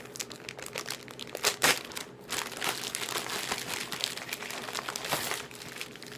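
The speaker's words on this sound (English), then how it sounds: "let's rip this thing off" A parcel's packaging is ripped and torn open at close range, with bursts of crinkling and crunching plastic or paper at an irregular rhythm, a few sharp tearing snaps standing out.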